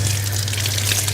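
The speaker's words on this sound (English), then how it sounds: "Now the water is running" Tap water runs steadily into a sink during hand washing, a continuous close, loud rushing wash with a low hum beneath it and no talking.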